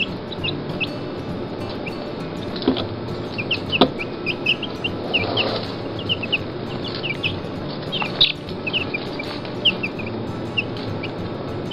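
Young Buff Orpington and black Australorp chicks peep continuously, with many high, short chirps overlapping in a busy chorus over steady background noise.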